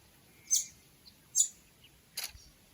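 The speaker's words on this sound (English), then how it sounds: "There's a tiny little bird up there. You can hear it cheeping away." A tiny bird cheeps from a tree beside a lake near Quilpie, Queensland, giving a few short, sharp high chirps spaced about a second apart, clear against a quiet background.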